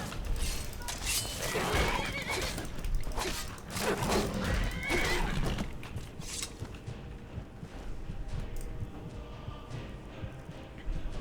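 A horse whinnies repeatedly in Skyrim over a dense, busy background of game effects, with a few hoof clops mixed in.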